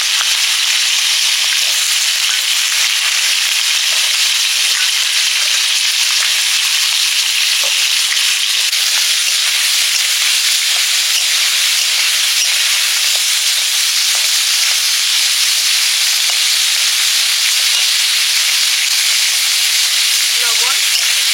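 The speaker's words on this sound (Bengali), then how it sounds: "আর আলুগুলো ভেজে নিচ্ছি আগে।" Potatoes fry in hot oil in a pan, giving a loud, continuous, even sizzle and bright hiss with small crackles and pops scattered through it, close up and without pause.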